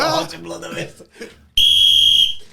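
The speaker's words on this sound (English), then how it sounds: "How long did it take before you decided to use your whistle?" After some talking, a whistle is blown in one loud, shrill, sustained blast lasting close to a second before it cuts off.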